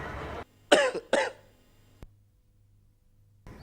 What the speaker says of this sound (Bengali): ডেড বডি কাশি দিয়েছে নাকি?